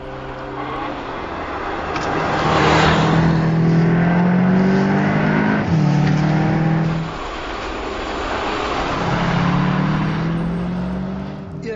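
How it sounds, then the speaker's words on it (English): A Volkswagen Arteon R powers out of a corner, its engine note loud and sustained as it climbs through the revs for several seconds, with a brief dip like a gear change midway, heard without any talking. "The corner exit acceleration of that car is just unbelievable."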